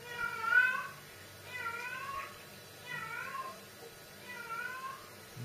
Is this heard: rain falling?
no